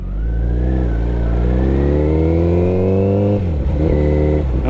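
Motorcycle engine revving up under acceleration, rising in pitch, then a brief dip as it shifts from first into second gear before pulling again; loud and close, with no talk.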